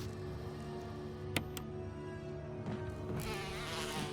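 Buzzing bees in the video game Resident Evil HD Remaster form a steady, droning insect hum with a couple of sharp clicks, heard alone without talk.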